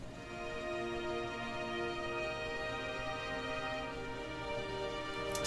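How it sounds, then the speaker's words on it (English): Dry, unprocessed violin section from East-West Hollywood Strings, sustained chordal tones held steadily and quietly throughout, with no reverb tail and no other instruments. "So it's just using some violins from Hollywood Strings from East-West,"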